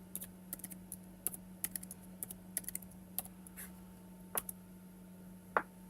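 Keys tapped on a computer keyboard during network lab configuration, in irregular bursts of light clicks over a steady electrical hum, with no talking.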